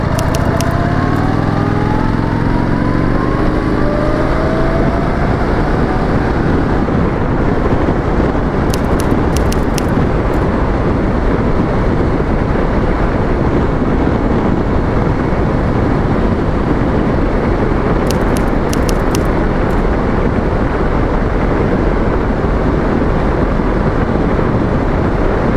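A new Indian Scout Bobber motorcycle ridden at speed, a loud continuous engine drone with heavy wind rush throughout and a rising pitch at the start as it accelerates, with no speech.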